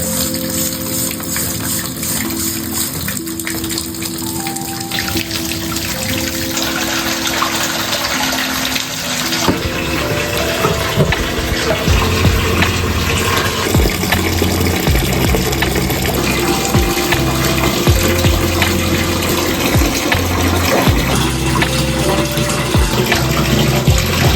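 Shower water runs in a bathroom, a loud, continuous broadband rush that holds steady throughout, with a faint tonal hum underneath.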